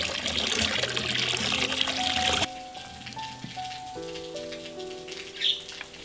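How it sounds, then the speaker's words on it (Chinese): Pork bones rinsed under running water from a kitchen tap for soup, a steady close splashing pour that drops in level partway through, alone with no talk. "现在我就开始把这个骨头清洗一下，冲一下水，这样喝起来的汤比较鲜甜"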